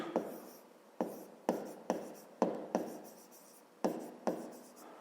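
Close, quiet pen-on-paper writing during a 5th-grade maths exercise: a steady run of about ten crisp taps, each trailing into a short scratchy stroke, with no one talking.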